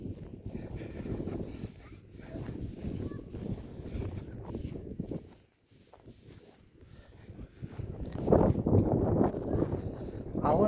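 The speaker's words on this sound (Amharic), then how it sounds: "አሁን በኃይለኛው ነፋስ መጥቷል" Strong wind sweeps across open ground by a dried-up river, a rough low rumble of gusts buffeting the microphone that dips briefly midway, then surges back louder.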